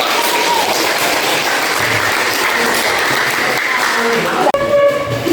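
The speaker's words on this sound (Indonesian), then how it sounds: "Tepuk tangan untuk kita." A group at a school coaching session gives a loud, continuous round of applause with voices mixed in; the clapping cuts off abruptly near the end, and a few brief sounds follow.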